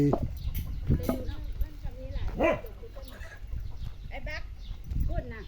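A fighting rooster on a Thai chicken farm sounds off in a few short crowing and clucking calls, with other farm animal noises and someone talking nearby throughout.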